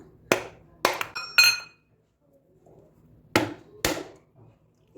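Sharp, hard knocks as a fresh coconut is struck to crack it open, a quick cluster of three or four blows, a pause, then a few more, close and loud.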